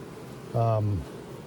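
A honey bee buzzes briefly near the hive entrance, one short loud drone lasting about half a second over faint background hum.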